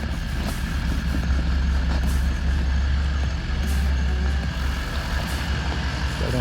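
A van engine idles steadily with a deep rumbling drone, loud and close, with a few faint clanks and hisses on top.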